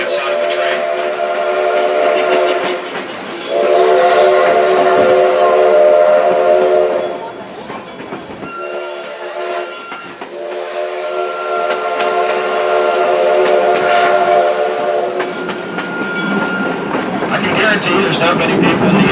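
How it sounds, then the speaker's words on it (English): Steam locomotive No. 136 on the South Simcoe Railway sounds its whistle in several long, loud blasts close by, with a short gap between two of them, over the steady rumble of the moving train and passenger cars. "not many people in the year 2017 who can hear that steam locomotive whistle like you just heard"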